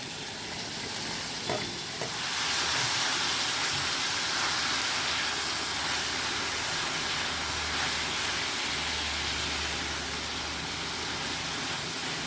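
Onion and mixed vegetables lightly roasting in a hot pan for spicy rava appe give off a steady, close sizzle and hiss, with faint stirring scrapes near the start and no talk.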